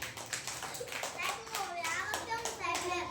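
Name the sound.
children clapping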